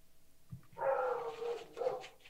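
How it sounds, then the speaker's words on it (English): An agitated dog gives a couple of drawn-out, yelping barks in quick succession, moderately close and alone without talk. "The dog has lost it."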